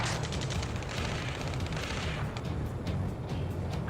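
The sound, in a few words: gunfire in Ace Combat 7 video game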